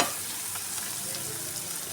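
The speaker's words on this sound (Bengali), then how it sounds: "তো মশলাটা আমি পেঁয়াজ আর টমেটোর সঙ্গে আবারও খুব ভালো করে কষিয়ে নেব।" Ground spices fry with softened onion and tomato in oil, making a close, even hiss and sizzle with faint stirring ticks.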